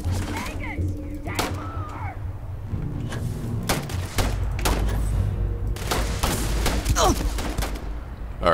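Bursts of gunfire and heavy booming shots crack repeatedly in a Starfield firefight, close and loud, with irregular volleys and impacts throughout while someone talks over the action.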